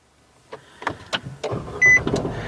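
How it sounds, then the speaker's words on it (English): A car is started for a dash cam install: a few clicks and shuffles, a brief electronic chime, then a low engine rumble building close by with no speech. "Now we could go ahead and start the vehicle."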